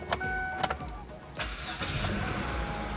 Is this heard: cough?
no